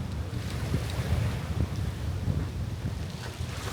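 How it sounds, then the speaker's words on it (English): Wind buffets a microphone aboard a ferry to Put-in-Bay, giving a steady low roar and rumble that fills the whole stretch without a break. "it's been windy as all get out"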